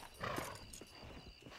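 A horse in the Western video game Red Dead Redemption being hitched, with a few hoof clip-clops and a short snort or whinny over quiet game ambience.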